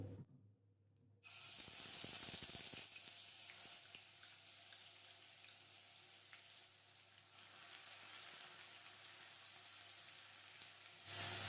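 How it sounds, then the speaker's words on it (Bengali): Onion paste dropped into hot refined oil with bay leaves, a sudden loud sizzle bursting in after a second of quiet, then a steady frying hiss that eases slightly and swells again at the very end. "এবার এখানে যে পেঁয়াজ বাটাটা নিয়েছি, এই পেঁয়াজ বাটাটা দিয়ে দেবো।"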